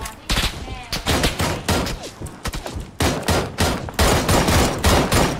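Rapid QBU rifle gunfire in a video game, dense bursts of sharp shots firing almost continuously with a few brief gaps, loud and close, with faint voices now and then.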